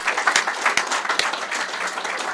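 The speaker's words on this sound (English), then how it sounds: "So let's give each other a round of applause for this accomplishment." An audience at a town selectmen meeting applauds young athletes for their accomplishment, a moderate, even patter of many hands with a few sharper claps standing out near the start.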